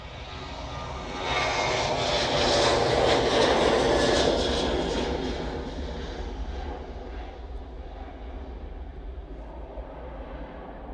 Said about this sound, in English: we have this TUI just on the roll down 23 left